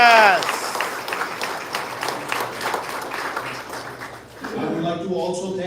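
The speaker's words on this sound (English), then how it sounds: "Round of applause for our audience." An outdoor event crowd in New York claps and cheers, with busy, continuous applause, a cheering voice at the start, and an amplified voice rising over the crowd near the end.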